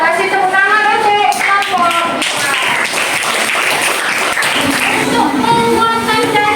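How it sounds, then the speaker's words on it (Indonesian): A group at a classroom anti-corruption session gives a round of applause. Dense, steady clapping comes from many hands nearby, mixed with voices and shuffling throughout. "Sekali lagi kita kasih tepuk tangan untuk"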